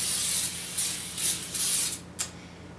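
Baking spray hisses in several short bursts as it coats a 13x9 baking dish, close and fairly loud, with brief pauses between sprays and a final quick spurt.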